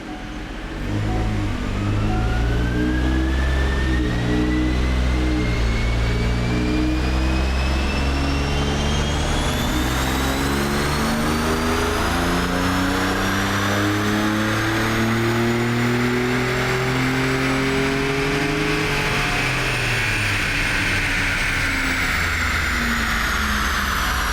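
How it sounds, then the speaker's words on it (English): A Ford F-150 sport truck with bolt-on upgrades pulls hard in seventh gear on a dyno, its engine roaring loud and steady as the revs climb for about twenty seconds, then easing off. "I'm going to get her up into 7th gear, which is 1-to-1"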